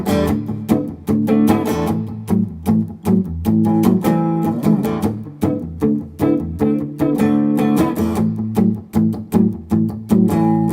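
Guitar playing a 12-bar blues with a quick change to the IV chord in the second bar: a steady, loud, close strummed shuffle with rhythmic chord hits and no talking.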